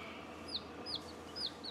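Baby chicks in a brooder give high, thin cheeping calls that repeat about three times at a steady pace over a low, constant hum. They sound near and fairly clear.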